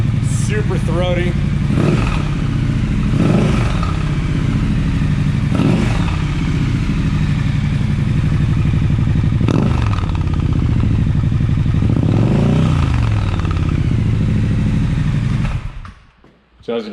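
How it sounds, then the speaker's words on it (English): A Triumph Scrambler 1200 with a low-mount Zard exhaust revs hard several times at close range, the deep, throaty engine rising and falling in repeated blips before cutting off near the end. "So as you can tell, I'm super pleased with the sound."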